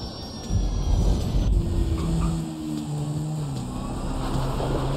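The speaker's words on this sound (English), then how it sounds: "Plane's coming down." A huge Merryweather cargo plane comes down in GTA 5, heard as a steady engine roar with droning tones that slide in pitch, no voices.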